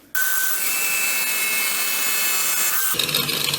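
Distar Esthete 2.0 diamond disc on a power tool set to speed five cutting through tile, a loud sustained high-pitched grinding whine starting abruptly and then dropping into a rougher rattling spin-down near the end.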